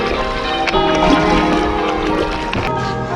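A kayak paddled across water near English church bells, with rhythmic paddle strokes and splashes close by, mixed with a steady wash of water and wind noise.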